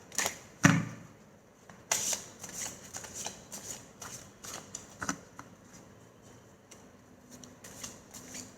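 Wisdom cards are shuffled for a reading, a close run of crisp riffling flicks and soft slaps with one sharper thud near the start, then softer shuffling that fades toward the end.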